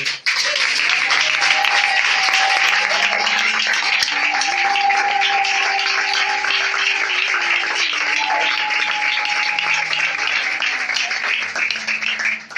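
A church congregation acclaims the Lord with loud, continuous applause and cheering during a worship service. The clapping stays dense and even throughout, with voices rising above it.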